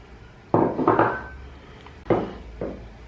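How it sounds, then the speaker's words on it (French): Kadaif pastry being mixed with melted butter in a bowl gives a few distinct clinks and scrapes of a utensil against the bowl, close up, with quiet pauses between. "je vais mélanger les cheveux d'ange avec du beurre fondu"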